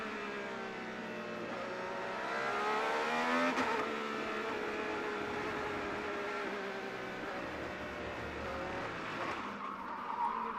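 IndyCar race cars on the IMS road course scream past at high revs, engine notes rising and falling as they pass and downshift, with tire squeal mixed into the continuous loud racing noise.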